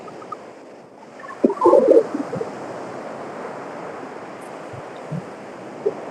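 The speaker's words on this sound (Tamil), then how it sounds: "கடல் எவ்வளவு வேகமா அடிக்குது பாருங்க" Sea waves rush and wash against the shore in a steady outdoor roar with wind on the microphone, a brief louder surge early on, and no talking.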